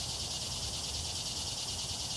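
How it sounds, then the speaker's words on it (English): Crickets or cicadas chirp outdoors at night in a faint, continuous high-pitched chorus with a steady shimmering texture and no voices. "Listen to those crickets."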